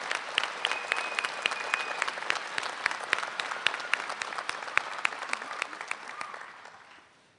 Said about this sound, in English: I want to take just a moment to have us all applaud our graduates